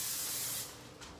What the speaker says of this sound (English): We got to spray the pan and add salt and pepper